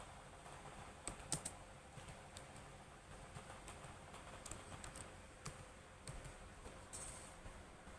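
Quiet clicking of computer keyboard keys while Python code is typed, a sparse, irregular run of soft taps with a couple of sharper clicks, faint and close over low room hiss, with no talk.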